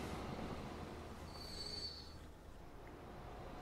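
A train in the Transport Fever 2 video game gives a brief, thin, high wheel squeal over a quiet low rolling rumble, and no one talks.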